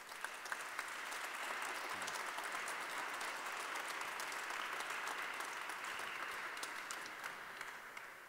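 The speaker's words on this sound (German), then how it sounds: "jetzt bekommen Sie alle nochmal einen großen Applaus" An audience at a panel evening on nature-based solutions for climate and biodiversity claps steadily throughout, a faint but even wash of many hands with no break.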